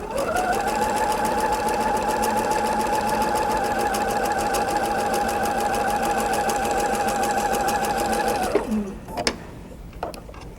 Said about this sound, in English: now we'll sew on to the next piece, which is called chain sewing